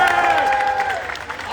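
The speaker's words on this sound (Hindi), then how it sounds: "एक बार जबरदस्त तालियां बजाई जाए।" A crowd at an SSC protest at Delhi's Ramleela Maidan claps and cheers loudly and continuously, while a tonal voice rings over it.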